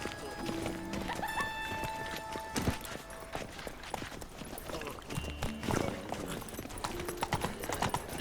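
Horse hooves clip-clop steadily in The Witcher 3, a continuous rhythmic trot under game music and ambient sound, with a brief louder thump partway through.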